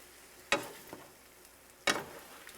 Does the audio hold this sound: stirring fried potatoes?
yes